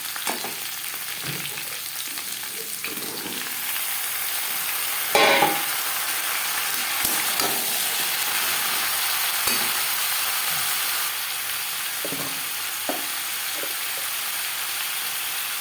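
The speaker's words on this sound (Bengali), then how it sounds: "আলুর সাথে পটল বেশ ভালো করে মিক্স করে দেবো" Potatoes and pointed gourd frying together in a pan, a continuous sizzle broken by several scraping stirs and clinks of a spatula, close up with no talking.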